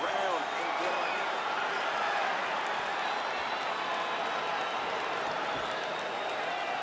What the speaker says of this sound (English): The crowd on its feet as this next round gets underway